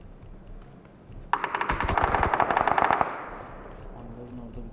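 Bursts of rapid automatic gunfire in a PUBG firefight, a loud sustained volley of closely spaced shots lasting a couple of seconds, then fading into distant ambience with a voice talking.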